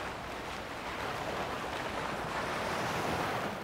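Sea waves surging and breaking against eroded coastal rocks below a high cliff in Provence, a steady broadband wash of surf with some wind noise, continuous and fairly distant throughout, no voices.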